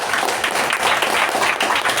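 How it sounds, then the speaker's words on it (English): A brief, dense round of applause from the audience at a Toastmasters meeting, with many hands clapping together at a steady, fairly loud level. "I should request everybody to give a huge round of applause to Toastmasters"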